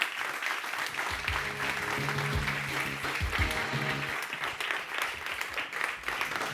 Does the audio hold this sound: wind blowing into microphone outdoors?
no